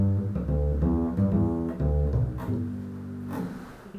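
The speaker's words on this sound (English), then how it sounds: "So in bluegrass music, it might sound like this." An upright bass plays a bouncy bluegrass-style line of plucked low notes, close and steady with a full resonant tone and no voices.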